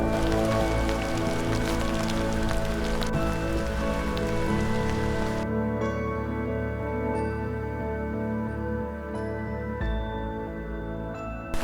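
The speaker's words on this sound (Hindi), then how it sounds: "और बारिश कुछ ज़्यादा ही ज़ोरदार हो गई है" Heavy rain pours steadily and loudly on a surface, a dense continuous hiss with a low rumble underneath.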